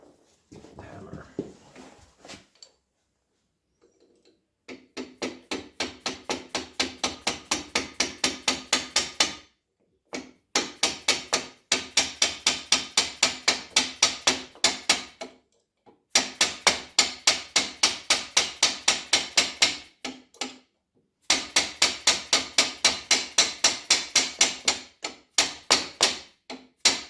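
Hammer blows strike a part during restoration of a SAJO milling machine, coming in fast rhythmic bursts of repeated sharp impacts separated by short pauses, loud and close.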